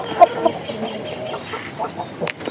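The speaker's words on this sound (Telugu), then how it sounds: "గూబ్ చెక్కులు పుంజు అది." A Goob checks breed rooster, a fighting-type country fowl on a farm, lets out several short, close clucks in an uneven run, with a sharper call near the end.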